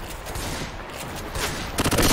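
Machine gun fire in the video game Left 4 Dead 2 rattles loud and close. A rapid burst runs through most of the moment, and sharper separate shots crack near the end.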